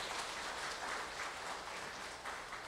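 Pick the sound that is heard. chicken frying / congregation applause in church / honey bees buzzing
congregation applause in church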